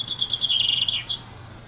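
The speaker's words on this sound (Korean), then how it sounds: "이런 새소리도 좋죠." Bright, high chirping birdsong from a sound effects library, a quick run of repeated tweets followed by a couple of rising calls, close and clear over a faint low hum.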